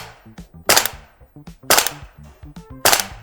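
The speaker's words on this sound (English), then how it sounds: "just try firing it on semi-auto" A VFC AV74M (AK74M) gas blowback airsoft rifle fires three semi-automatic shots about a second apart, each a sharp loud crack with a mechanical clack of the bolt, close by and alone.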